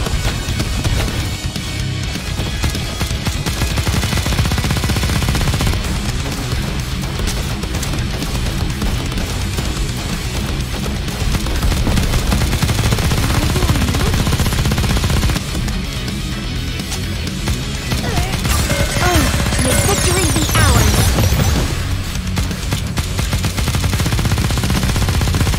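Machine-gun fire in the Nikke: Goddess of Victory video game comes as loud, sustained rapid bursts that run almost without pause for about twenty-five seconds, with short breaks between volleys.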